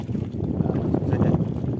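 Wind buffets the microphone at a fishing spot during bottom fishing, a low, continuous rumbling roar with no talk.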